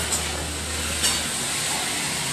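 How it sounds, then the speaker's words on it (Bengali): A short stretch of potatoes frying in a pan: a continuous close sizzle with light scraping from stirring, and no talk. "এখানে ডিম ভাজা, এখানে ভাত হচ্ছে, আর এখানে আলু ভাজা করছি"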